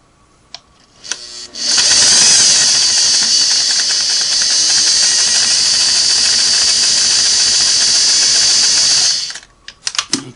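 A Sweetness 401A sewing machine runs a straight stitch through heavier fabric with the tension raised, a steady loud whir lasting about eight seconds, with soft handling clicks before and after.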